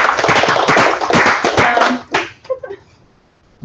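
Audience applause at a Show & Tell talk, a short burst of close, sharp hand claps that thins out and stops after about two seconds, followed by a few scattered taps and a brief voice.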